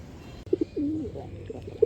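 Khaki Chuithal pigeons coo softly nearby, a few short low notes and a rolling coo against quiet background noise.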